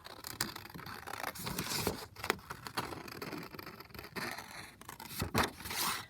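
Scissors snipping around a figure on printed 160 GSM cardstock, a series of close, crisp cuts and scrapes in uneven bursts, quiet and without talk.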